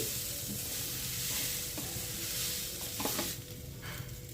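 Vegetables and lentils frying together on a low flame for Bengali-style oats khichdi, a steady close sizzle with soft stirring scrapes and a few light clicks, no talking.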